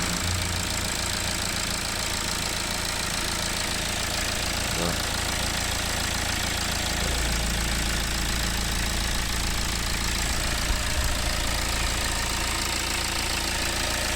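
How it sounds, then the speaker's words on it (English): BMW diesel engine idling steadily with its EGR valve reconnected, a continuous low mechanical rumble with a slight knock, close and even, with brief speech over it. "You can hear the engine note change there now."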